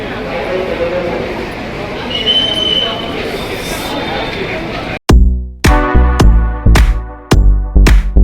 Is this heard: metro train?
yes